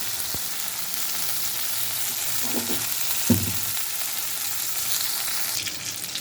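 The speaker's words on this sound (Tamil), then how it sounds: "தக்காளி, வெங்காயம் போட்டு வதக்கியாச்சுங்க." Steady sizzling of tomato and onion sautéing in a pan, with a couple of soft stirring scrapes partway through.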